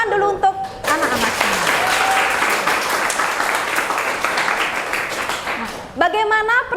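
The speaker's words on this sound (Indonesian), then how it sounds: "Tepuk tangan dulu untuk anak-anak." Schoolchildren clap together in a classroom, a dense, steady burst of applause lasting several seconds, with a teacher's voice heard briefly before and after.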